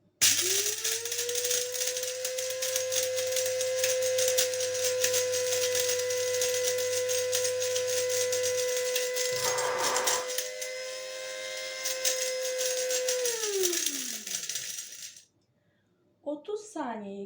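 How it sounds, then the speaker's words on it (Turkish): A Kiwi Premium electric coffee and spice grinder with its lid locked grinds black peppercorns: a loud, steady motor whine lasting about fourteen seconds, then winding down to silence, followed by a few light rattles. "kivi kahve ve baharat öğütücüsünü çalıştırdım. Karabiberi öğüttüm."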